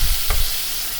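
Hilsa fish pieces laid into hot oil tempered with black cumin sizzle in a steady hiss, with one soft clatter as they settle near the start of the short burst.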